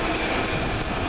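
Locomotive 39157 pulls away with a Virgin Trains West Coast service at Carlisle, a loud, steady rumble of rolling wheels and engine noise filling the brief moment without speech.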